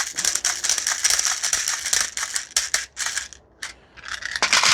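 Dense, rapid clicking and rattling of 0.4 gram airsoft BBs being loaded into a Mini UZI gas blowback magazine, close and continuous with a brief pause near the end, no talk.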